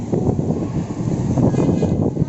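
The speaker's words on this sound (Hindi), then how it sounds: "हवा चलना शुरू हुई है" Strong wind from a sandstorm in Karachi blows steadily as a loud, broad rush that buffets the microphone, with no voices.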